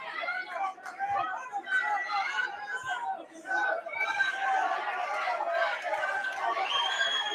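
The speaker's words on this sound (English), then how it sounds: "You could definitely hear the excitement of this crowd." An excited crowd at a live boxing match in Westlake, Ohio keeps up a lively babble of chatter and shouts, and a commentator's voice is heard over it.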